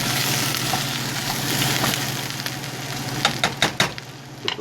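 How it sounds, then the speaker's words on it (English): Onions fry in salted oil in a soup pot, a steady close sizzle with clicks of a spoon stirring in the last second or two. "I'm just going to stir this around."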